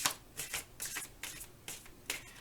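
Tarot cards being shuffled up close: a quick run of about six soft riffling bursts, fairly quiet and evenly spaced, with no voices.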